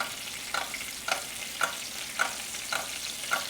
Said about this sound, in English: I'm just gonna push these to the top of the pan. It's picking up all that roasted garlic, all that rosemary, all that butter, and just glazing it.